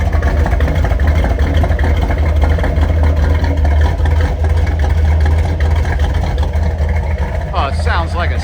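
A 1969 Chevrolet Camaro Z/28 idles with a steady, deep, rumbling engine drone that stays loud and constant throughout. A voice briefly rises over it near the end.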